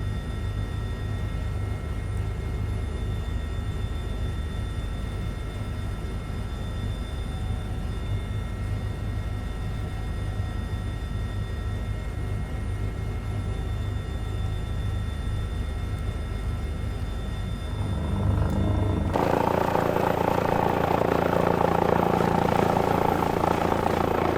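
A simulated helicopter in Microsoft Flight Simulator drones with a steady rotor and engine hum during a firefighting flight, then throttles up near the end into a louder, brighter roar.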